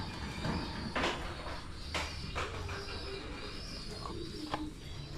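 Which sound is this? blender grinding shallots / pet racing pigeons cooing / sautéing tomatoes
pet racing pigeons cooing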